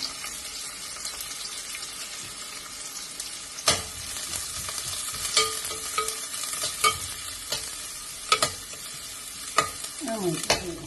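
Chopped onions frying in a pan while being stirred, a steady close sizzle broken by repeated sharp scraping and clinking strokes of a utensil against the metal, for beef kofta.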